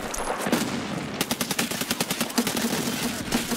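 Rapid automatic gunfire in Escape from Tarkov, a fast string of loud, sharp shots in quick rhythm after a brief quieter lead-in, continuing to the end.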